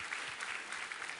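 A church congregation at a Sunday service gives a short burst of applause, a dense, even wash of clapping from many hands with no voices on top.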